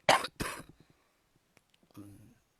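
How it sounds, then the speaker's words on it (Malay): Two sharp, close coughs from a long COVID symptom in quick succession, then quiet with small clicks, followed by a softer throat-clearing grunt. "Long COVID symptom tu masih ada lagi, sikit-sikit batuk."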